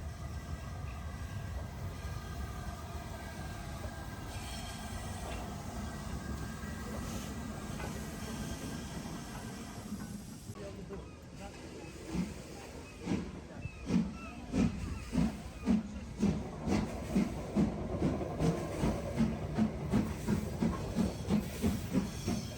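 A Black 5 steam locomotive, Eric Treacy, rolls into a station on the North Yorkshire Moors Railway, starting with a steady low rumble. Then a rhythmic chuffing and clanking builds and grows louder as it draws near, with no one talking.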